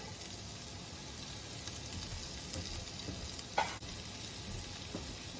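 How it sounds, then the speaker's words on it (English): Onion sizzles in melted butter in a pan with a constant, fairly quiet crackling hiss. One brief clatter breaks in near the end. "And to the butter, I'm going to add my onion in."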